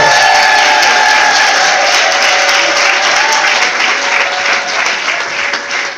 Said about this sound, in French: Acclame pour toi-même. Clap for yourself.